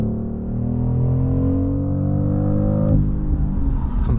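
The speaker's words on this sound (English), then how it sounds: "Some pops coming off there." BMW X3 M50 (2025) with sport transmission accelerating hard, a steady loud engine drone rising in pitch, then a downshift near the end with a few crackling exhaust pops.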